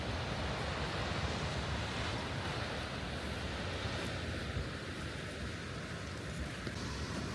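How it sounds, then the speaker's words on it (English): Sea waves crash against the cliffs at Bow Fiddle Rock, Portknockie, on the Scottish coast, making a loud, continuous roar of surf and wind-blown spray that swells slightly without pausing. "See the sheer force of those waves crashing through those cliff walls there."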